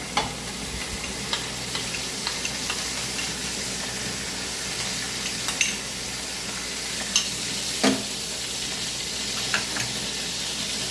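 Butter sizzling on a hot tava griddle while making pav bhaji, a steady low frying hiss with a few soft clicks and scrapes over eleven seconds, fairly quiet and without talk.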